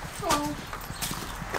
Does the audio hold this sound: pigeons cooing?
no